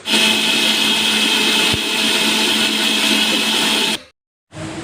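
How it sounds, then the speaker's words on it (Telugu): A mixer grinder blends soaked cashews, milk, fruit and pomegranate seeds, a loud steady high-pitched motor whine running for about four seconds, cutting off briefly, then starting again. "ఇందులో ఏదో ఒక ఫ్రూట్ అయితే యాడ్ చేసుకుంటాను అలాగే కొన్ని దానిమ్మ గింజలు కూడా వేసేసుకుని మెత్తగా మిక్సీ పట్టేసుకుంటాను"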